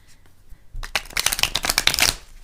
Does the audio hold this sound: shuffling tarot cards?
yes